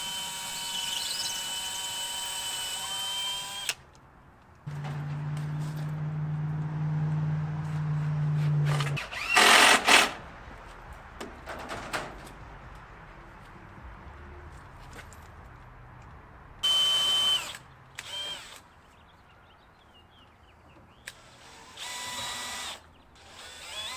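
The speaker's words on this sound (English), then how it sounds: "I'm going to drill at an angle." A power drill drives at an angle into the wooden studs of a rabbit hutch in several loud bursts of whirring, with a long steady run, separated by quiet pauses and handling knocks.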